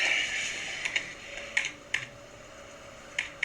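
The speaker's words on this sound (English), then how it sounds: "Just use the keyboard." Sparse, quiet clicks of keys being typed on a computer keyboard, a few isolated taps then a short cluster, against a faint background hum.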